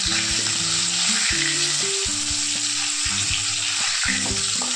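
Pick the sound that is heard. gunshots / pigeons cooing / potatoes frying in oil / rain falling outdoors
potatoes frying in oil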